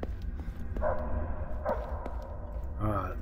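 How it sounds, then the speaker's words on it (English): Dogs barking in the Silent Hill Homecoming video game, three separate yapping barks spaced about a second apart, fairly near, over low game ambience. "I hear puppies!"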